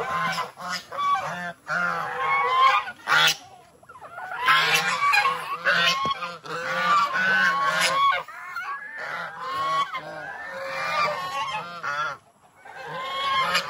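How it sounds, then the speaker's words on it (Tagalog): A flock of geese honking loudly and continuously, with overlapping calls in bursts and brief pauses, close by. "ang ating mga pabo, gansa"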